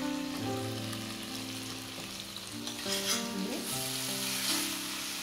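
Pan-fried chili fish sizzles in a pan as it is stirred, with a constant close hiss and soft scraping stirs over it.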